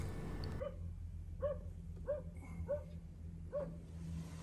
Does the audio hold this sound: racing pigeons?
no